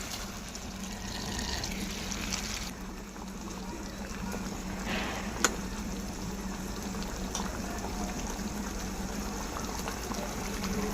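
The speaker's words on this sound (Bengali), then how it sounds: "সামান্য একটুখানি জল দিয়ে দেবো এবার আমি চিংড়িটাকে দিয়ে দিচ্ছি" Prawns cook in a pan with a little water, giving a steady bubbling simmer with soft sizzling and one sharp clink midway, heard close with no talking.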